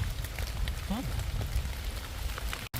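Rain falling outdoors in the forest during mushroom gathering, a soft constant patter on surfaces with a faint brief chirp and a sudden dropout near the end.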